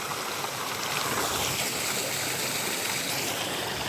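Small river flowing beside a trail in Dominica, a steady broadband rush of water with no breaks, moderately close and continuous throughout.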